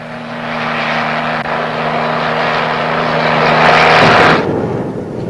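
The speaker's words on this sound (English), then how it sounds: "the versatile helicopter, a rugged workhorse with tremendous lift capacity" An Army helicopter in flight, a rugged heavy-lift workhorse, gives a loud, close, continuous engine and rotor roar that swells toward the end and then cuts off abruptly.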